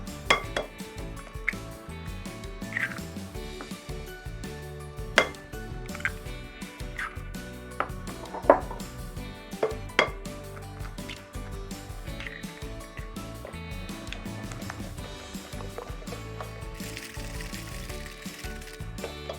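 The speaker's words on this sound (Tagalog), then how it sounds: "mix in the eggs" Eggs being mixed into carrot cake batter in a bowl give a string of light clinks and scrapes of a utensil against the bowl, some sharper taps standing out over a soft background.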